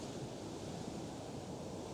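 Surf breaks along a beach in the Redondo Beach area, a dense, steady wash of turbulent churning water with some wind rumble, no voices.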